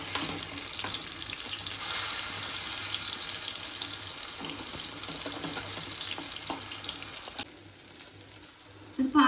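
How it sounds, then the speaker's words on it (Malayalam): Stuffed plantain frying in hot oil, a steady close sizzle that runs for several seconds and then drops lower near the end, followed by a couple of louder knocks, with no voices. "തിരിച്ച് മറിച്ചിട്ടിട്ട് നമുക്ക് ഫ്രൈ ചെയ്തെടുക്കാം കേട്ടോ."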